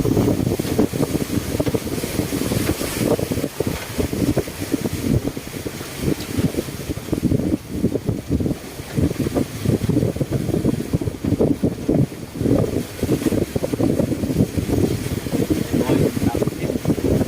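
Strong wind blows along the Mekong riverbank in northern Laos, a loud, constant gusting roar that buffets the microphone while people talk over it.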